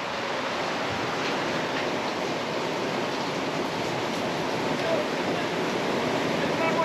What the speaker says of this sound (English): Oh, this rain is coming. It's right here.